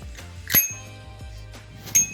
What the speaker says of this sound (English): It's got a little bell. Ring the bell.